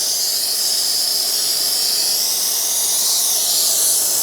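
A handheld steamer blows a steady, loud hiss of steam close by while softening and lifting tint film from a car window, continuous with no pauses and no talking.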